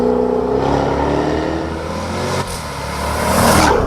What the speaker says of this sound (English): adaptive mode also opens up the exhaust, so you get the full noise, the full drama